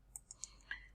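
Faint, crisp clicks of a computer mouse, four quick separate taps within a second, quiet and close with no talking.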